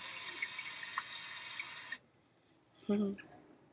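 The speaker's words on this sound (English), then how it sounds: "that's the water coming out of the watering can" Water pouring from a watering can onto a house plant, a steady broadband splash lasting about two seconds and then stopping abruptly, with a brief voice afterward.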